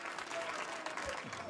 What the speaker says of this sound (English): They're not booing, they're shouting Luke, just so you know